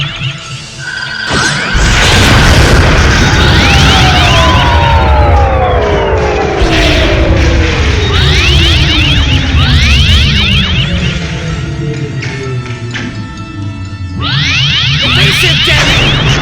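Starship weapons fire and explosions in a Star Trek fan film battle against a Klingon D7: loud sweeping energy-beam shots with descending tones over a constant roaring rumble, repeated whooshing blasts throughout.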